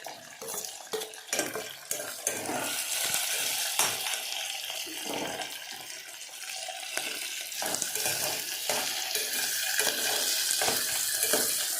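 Carrots tossed and stirred in a frying pan with masala for pulav, a busy mix of sizzling, scraping and clattering against the pan, fairly loud and continuous with no voices.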